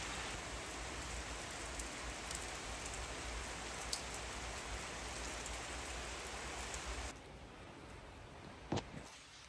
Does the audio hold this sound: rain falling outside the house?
yes